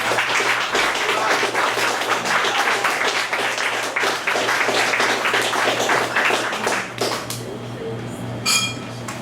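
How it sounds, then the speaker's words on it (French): Loud, sustained applause from an audience at a gathering, many hands clapping densely for several seconds before thinning out, with a few scattered clinks and some talk near the end. "je voudrais que vous applaudissiez notre ami Marc-Paul Hubert"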